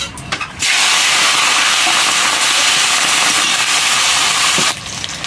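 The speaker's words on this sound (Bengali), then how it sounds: "মাছে হলুদ লবণ মাখিয়ে রেখেছিলাম, এখন মাছটা ভেজে নেব।" Fish rubbed with turmeric and salt is set into hot white oil in a kadai, giving a loud, steady hiss and crackle of frying that bursts in abruptly and holds for about four seconds before cutting back down.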